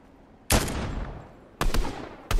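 Gunfire in Fortnite: three loud, sharp shots at irregular intervals, the first ringing out with a long decaying tail before two more cracks follow close by.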